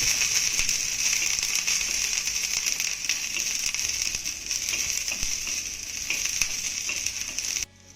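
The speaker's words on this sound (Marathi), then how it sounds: "आता यामध्ये घातलेला लसूण आणि मिरची आपल्याला डाग पडेपर्यंत चांगली भाजून घ्यायची आहे" Garlic cloves and green chilies roasting in a hot pan sizzle in a steady, loud, bright hiss with faint crackles throughout, cutting off abruptly at the end, with no voices.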